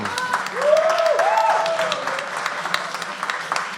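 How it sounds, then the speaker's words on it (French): A crowd at the Bars en Trans festival claps and applauds steadily in the evening, with a few excited voices rising over the clapping. "Oui, vous pouvez l'applaudir hein, quand même"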